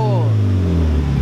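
A Mitsubishi Evo engine keeps running on its turbo timer after a radiator install, giving a loud, close, steady idle hum.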